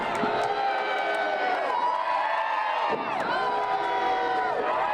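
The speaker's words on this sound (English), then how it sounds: "The crowd firmly behind Tommy Snow." A wrestling crowd cheers for Tommy Snow with a sustained roar of voices, shouts and whoops rising and falling in waves, loud and continuous from start to finish.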